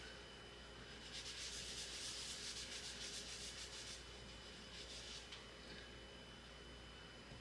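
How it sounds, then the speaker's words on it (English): A microfiber cloth wetted with alcohol wipes a glass cookie jar in quick rhythmic rubbing strokes, a close bright swishing in two bursts over a steady low hum, with no talk. "Clean it up with some alcohol. Our microfiber cloth."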